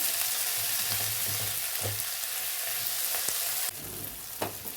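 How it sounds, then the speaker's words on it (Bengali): Tomato, onion and green chilli sauté in a hot pan, a steady close sizzle with occasional spoon scrapes and clinks, the frying noise shifting brighter near the end. "টমেটো পেঁয়াজ কাঁচা লঙ্কা ভালো করে একটু কষিয়ে নিই"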